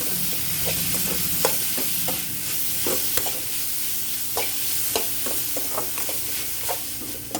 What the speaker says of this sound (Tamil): வெங்காயம் போட்டு நல்லா வதக்கலாம்